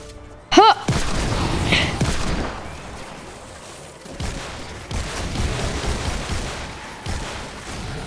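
Gunfire and combat in the Fortnite Save the World Frostnite event, with a sharp burst early on followed by a rumbling run of shots and booms at moderate distance, no talk.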